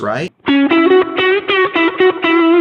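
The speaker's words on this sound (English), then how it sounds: "And now we're going to add in this little tube screamer, which is going to give us more low mids" Fender electric guitar with the bright switch on, pushed through a Tube Screamer overdrive for fat low mids: a sustained, thick distorted chord riff played in repeated strummed hits, loud and close, after a brief spoken word.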